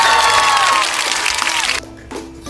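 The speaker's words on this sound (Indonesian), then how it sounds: "tepuk tangan" A crowd of students applauds and cheers for a logistics team, with loud, dense clapping that fades out toward the end.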